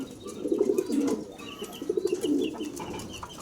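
Racing pigeons in a breeding loft give two bursts of soft, repeated cooing, close and fairly loud against a background hum.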